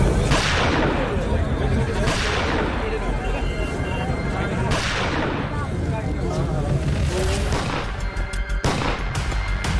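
Gunfire from the attack on a Punjabi singer's car rings out as several loud, sharp cracks spaced a couple of seconds apart, heard under an excited voice talking throughout.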